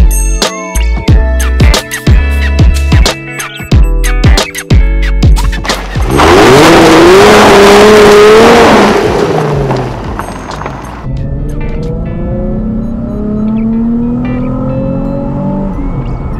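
A car on Scottish roads outside Edinburgh, first a clatter of close, choppy knocks, then a loud engine roar rising in pitch as it accelerates hard, settling into a steadier cruising drone.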